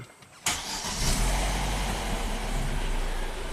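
A Vauxhall Astra with suspected variable valve timing solenoid trouble cranks and fires up after a short quiet moment, then settles into a steady, close idle.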